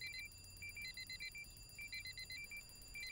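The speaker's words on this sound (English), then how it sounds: "Oh, great, alarms." An electronic alarm goes off in the Honkai: Star Rail animated short "Taking It Easy", a faint, quick series of repeating high beeps in short clustered groups over a low background hum.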